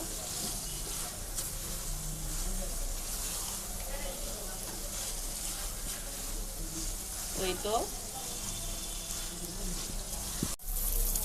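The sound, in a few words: shrimp frying with spices and onion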